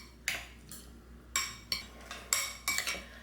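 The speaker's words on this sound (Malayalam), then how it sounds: "ഇതെല്ലാം കൂടി നന്നായിട്ടൊന്ന് മിക്സ് ചെയ്ത് കൊടുക്കാം" A spoon clinks against a bowl while tomato ketchup and chilli garlic sauce are mixed together, giving a series of sharp, close metallic taps in an irregular rhythm.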